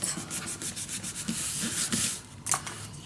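Paper and tape are burnished down onto a chipboard mini album with steady, close rubbing strokes, a continuous dry scraping with rhythmic swells and a sharper stroke near the end, no voices.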